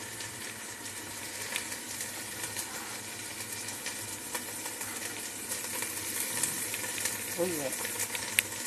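Garlic and onion sauté for beef caldereta with a steady, soft sizzle in the pan. A few brief spoken words come in near the end.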